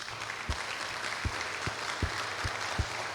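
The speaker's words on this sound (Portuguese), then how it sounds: "Vamos bater palmas para os nossos." Applause from a conference audience cheering teachers at a family-focused Christian conference in Brazil, a steady wash of clapping with a few louder claps standing out, moderately distant and filling the room.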